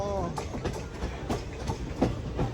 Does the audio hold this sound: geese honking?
no